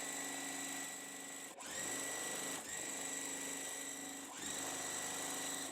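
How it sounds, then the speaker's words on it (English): A sewing machine stitching precut quilt kit pieces together, its motor running in steady buzzing bursts with brief pauses between runs, close and loud with no talk. "Notice that they're touching, and I'm going to just sew."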